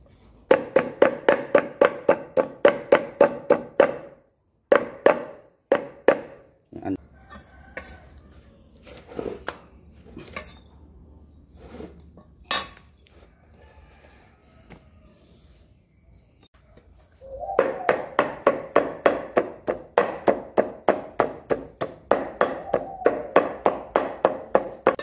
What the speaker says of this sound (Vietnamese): Rồi bây giờ mình đi băm thịt thôi cả nhà cho nó nhanh.